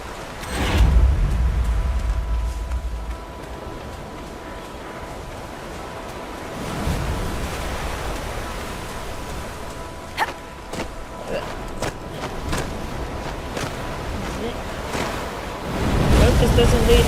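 Ocean waves wash against the Storm Coast in the video game Dragon Age Inquisition, with swelling and receding surf and wind beneath faint voice-like sounds.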